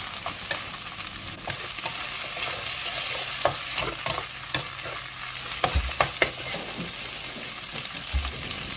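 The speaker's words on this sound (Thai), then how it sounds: "ตรงนี้ก็ค่อยๆผัดนิดนึงค่ะ เราต้องการให้ เส้นใหญ่นะคะไหม้ติดกระทะเล็กน้อย" Wide rice noodles stir-fried over medium heat in a wok, left to char slightly against the pan, for Thai chicken kua noodles. Steady close sizzling runs throughout, broken by repeated scraping and tossing clatters from the spatula, with no talk.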